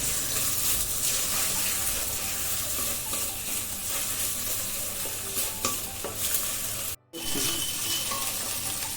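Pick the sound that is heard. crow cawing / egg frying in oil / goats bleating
egg frying in oil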